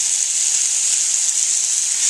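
Chicken frying in a pan gives off a loud, steady hiss and sizzle, close up and continuous with no talking over it.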